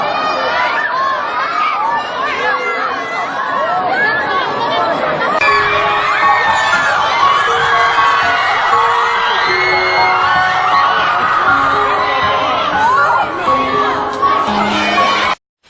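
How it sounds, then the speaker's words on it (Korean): Fans at a Korean celebrity event cheer and whoop, with shrill shouts and excited chatter layered in a continuous loud crowd roar that cuts off abruptly at the end. "우리 김지호 씨를 박수와 함성으로 맞이해 주시기 바랍니다"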